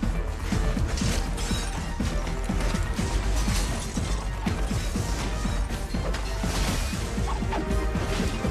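Glass smashing repeatedly during a sci-fi fight scene in the film Ultraviolet, dense crashes, impacts and clattering debris running loud and continuous under a driving action soundtrack.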